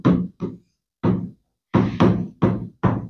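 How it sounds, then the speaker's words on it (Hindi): Seven sharp knocks on a door, a quick pair, a single, then a close cluster of four, loud and near with nothing else around them. "खटखटाया"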